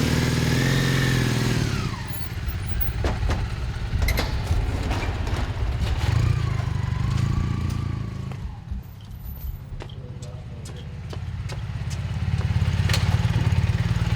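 A 1979 Honda CM400A motorcycle engine runs near and loud in a steady, low rumble with mechanical clatter, dipping briefly before swelling again, while someone talks over it.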